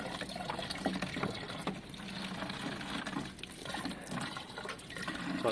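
Vinegar sloshes and swirls inside a rusty 1972 Triumph Bonneville T120 fuel tank, a continuous low watery churning with irregular splashes, fairly quiet and steady throughout.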